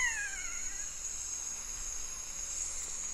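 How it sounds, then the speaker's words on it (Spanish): Great Jacamar (Jacamerops aureus) giving odd, cat-like calls: a few descending whistled notes at the start, fairly faint, over a steady high insect drone in lowland forest. "Great Jacamar. Miren los llamados como son de raros."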